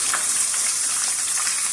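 Finely chopped onions sizzle in hot oil in a pan for matar keema, a steady bright hiss that is close and continuous with no talking.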